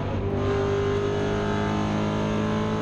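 Maserati Trofeo race cars overtake at Suzuka Circuit, their engines roaring loudly and steadily with strong droning harmonics as they pass close by.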